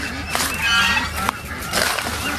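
Young geese on a Vietnamese duck and goose farm honk in repeated short, nasal calls, fairly close and loud against steady background noise, with no talking.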